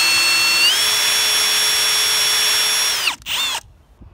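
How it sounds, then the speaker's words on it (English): A power drill with a 1/8 inch bit whines steadily at high pitch, rising slightly in speed, then briefly bogs down and stops as it breaks through an aluminum rivet on a 1980 AMF Sunfish sailboat. "Just get a 1/8 inch drill bit, take it, put it in the rivet head here."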